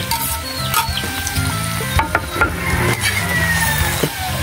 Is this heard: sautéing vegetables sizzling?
yes